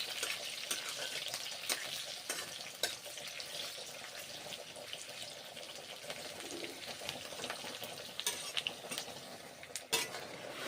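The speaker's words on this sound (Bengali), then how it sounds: "পেঁয়াজগুলো ভেজে নিচ্ছি" Onions fry in a pan with a continuous soft sizzle, punctuated by repeated scrapes and clicks of a spoon stirring against the metal, fairly quiet and close, with a couple of sharper knocks near the end.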